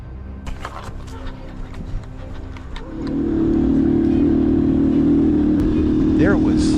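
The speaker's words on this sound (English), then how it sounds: "Garrick's bike was tearing across the open field in search of another target." A motorbike tears across an open field on a Texas farm while hunting wild boar. After a quieter stretch, a loud, steady engine roar rises and holds close and sustained to the end.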